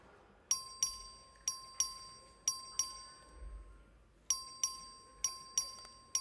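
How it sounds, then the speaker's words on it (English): A legislative chamber bell rings for a record vote: a series of sharp, bright electronic chimes in two clusters with a short pause, each ring decaying quickly, clear and close, with no talking. "The clerk will ring the bell."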